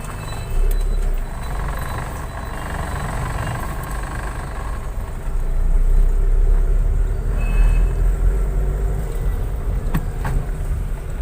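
A car creeps along in second gear through a busy market at night, its low engine drone steady under a wash of street noise with faint beeps and distant traffic, and nobody speaking.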